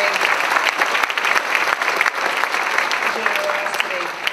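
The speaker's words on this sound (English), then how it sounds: "Please give them a round of applause" An audience at a cherry blossom opening ceremony applauds the ambassador of Japan with loud, steady clapping that continues throughout, accompanied by some crowd murmur.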